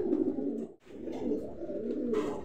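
A pair of black Lakkha pigeons, a hen and a cock, coo in low, rolling, throaty calls close by, with a brief pause partway through and no talking.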